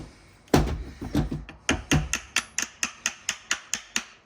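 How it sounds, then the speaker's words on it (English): A small hammer taps on the anvil of a Makita impact gun, producing about a dozen sharp metallic knocks, irregular at first and then settling into a steady, evenly spaced rhythm, close and clear. "Go with the baby hammer first."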